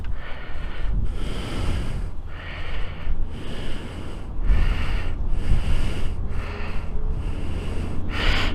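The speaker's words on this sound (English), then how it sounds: "This is really fun to do when you got the wind blowing this hard at you." Strong wind buffeting a microphone in loud, rolling gusts that swell and fade every second or so, close and rough, with no speech.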